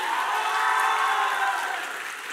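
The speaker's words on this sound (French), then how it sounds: "On demande d'applaudir là bien fort." An audience at a semi-final competition applauds loudly, a continuous hiss of many hands clapping with a faint crowd murmur. It stays steady and dense, then tapers slightly toward the end.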